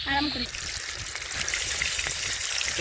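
Fish sizzles and spatters steadily in hot oil in a village kitchen, a close, continuous frying crackle.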